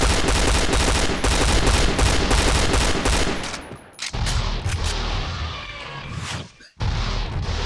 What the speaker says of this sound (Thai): เจ้าปืนตัวนี้เนี่ยเวลายิงเราจะยิงเป็นชุดๆนะยิงเป็นชุดละ 2-3 นัดยิง